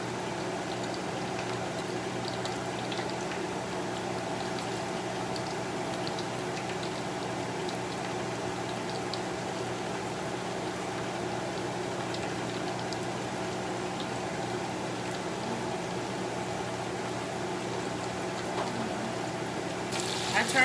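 Mozzarella onion rings fry in hot oil with a steady, continuous bubbling hiss that holds at an even level throughout, with no talking over it.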